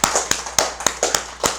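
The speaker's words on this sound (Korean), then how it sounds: "박수 보내주세요." A few sparse, separate claps at a Buddhist Wednesday Zen dharma service in 2018, roughly seven sharp hand strikes spaced unevenly over a second and a half, fairly close and with no voices.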